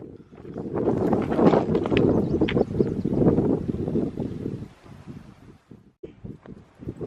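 Strong gusts roar against the microphone in a slightly sheltered desert creek on a cloudy day, a steady broadband buffeting that fades after about five seconds into scattered rustles and knocks.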